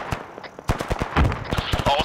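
In a military video game, a tank's coaxial machine gun fires in short sharp bursts mixed with single shots, loud and close, while a voice talks briefly between them.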